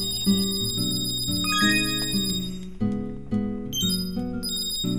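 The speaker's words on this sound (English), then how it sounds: "Ring the bell." Bright, repeated bell rings in the video game Kirby's Epic Yarn, chiming in quick succession over a melodic, upbeat game soundtrack, clear and prominent.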